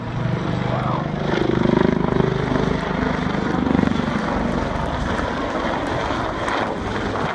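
Jet aircraft engine roaring through a flypast at the Farnborough International Air Show 2014, a loud continuous broadband rumble that swells and fades slightly over several seconds, with wind buffeting the microphone.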